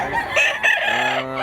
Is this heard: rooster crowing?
yes